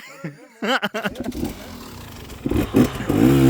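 An enduro motorcycle engine revs up nearby with rough, rising bursts, while someone talks and laughs over it.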